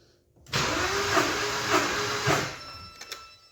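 BMW engine cranking on the starter for a cylinder compression test during misfire diagnosis: a loud, steady mechanical whir with a rhythmic pulse lasting about two seconds, then fading to a couple of faint clicks.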